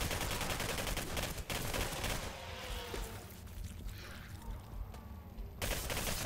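Rapid bursts of automatic rifle fire in the video game Singularity crackle loudly in a dense, noisy mix, pausing briefly midway before the shooting resumes.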